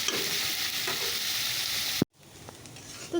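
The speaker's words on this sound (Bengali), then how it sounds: "চলো এটাকে ভাজা করে নিই" Food sizzling loudly in a pan with broad steady frying hiss, after salt is added; the sizzle cuts off abruptly near the end, leaving a quieter, fainter frying sound.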